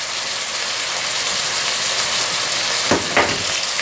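Tomato paste frying in a pan for a mince and bean sauce, a steady broadband sizzle throughout, close and even, with two brief stirring scrapes near the end and no talk.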